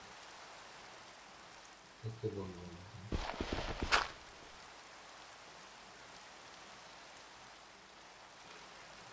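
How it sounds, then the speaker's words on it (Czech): Rain in the Minecraft video game falls as a soft, steady hiss at low volume, with a short stretch of speech and a couple of sharper in-game sounds breaking through midway. "Ono prší."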